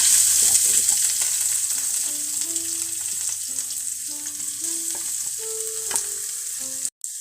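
Mustard seeds, curry leaves and onion fry in hot oil, a steady close sizzle and crackle with occasional stirring, no talking.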